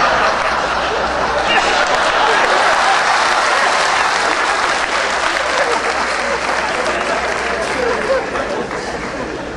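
An audience at a political speech claps loudly and continuously, a dense wash of applause with crowd murmur mixed in, fading slightly toward the end.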